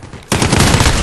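Sustained burst of MG34 light machine gun fire in a first-person shooter game, loud and close, a rapid continuous rattle that kicks in abruptly after a quieter moment and runs to the end.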